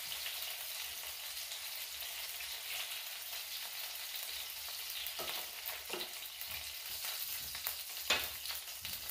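Double bacon burger sliders sizzle in a pan, a soft, steady hiss of frying with a few louder crackles and pops near the end, no voices.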